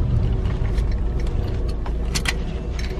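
A car drives along with steady road and engine noise throughout, a close continuous rumble with a few faint clicks and rattles on top, no voices.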